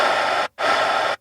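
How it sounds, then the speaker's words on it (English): Loud, steady hiss of static from a coffee shop's speaker system, two broadband bursts split by a brief silent gap. "The speaker sound system at the coffee shop had a lot of static."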